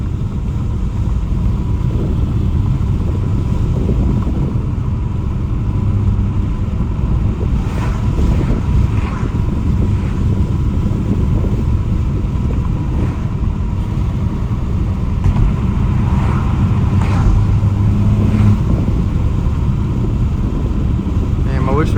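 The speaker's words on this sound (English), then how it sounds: "The wind noise." Heavy wind buffets through the open window of a moving car, a loud, steady low roar with gusty turbulence that goes on without a break. A person talks briefly under the noise.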